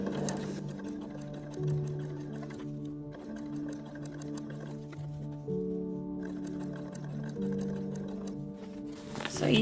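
Sewing machine stitching a flat felled inseam on trousers, a steady whirring hum running in several bursts with brief pauses between them, close and clear.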